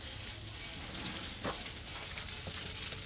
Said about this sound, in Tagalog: tumutunog na ang kawali